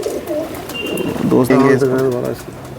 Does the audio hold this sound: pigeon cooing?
yes